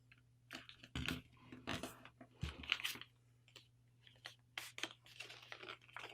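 Sheets of paper folded into an Aethon-style paper airplane give off crisp creasing and crinkling rustles in short bursts, close up and with no voices.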